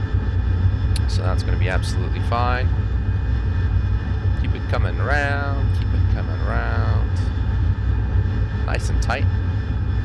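Simulated RAF Harrier GR7 jet engine in DCS, a steady loud roar holding throughout while someone talks over it with instructions.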